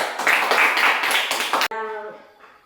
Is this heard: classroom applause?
yes